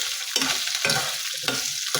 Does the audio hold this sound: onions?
yes